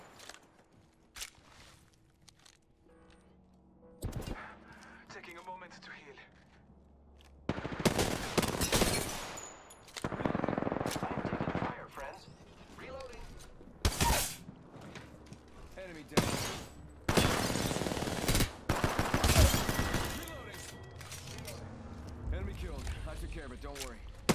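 Video game gunfire crackles in repeated bursts and single shots over about twenty seconds, some loud and sharp, with occasional talk in between.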